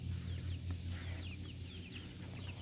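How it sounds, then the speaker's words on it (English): A flock of chickens settled in a new coop cluck and chatter steadily, with several birds overlapping in a continuous, moderately close murmur over a constant low background hum. "Look at all these chickens."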